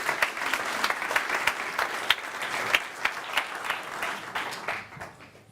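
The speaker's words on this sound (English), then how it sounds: "Please applause for Dana and welcome Adrian." Audience applause after a presentation on tracking and predictive analysis, steady mid-level clapping from a modest crowd that tapers off toward the end, with no speech over it.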